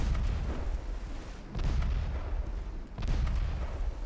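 Naval guns in a video game fire incendiary shells in two heavy booming volleys with rumbling low-end tails, roughly a second and a half apart, loud and close.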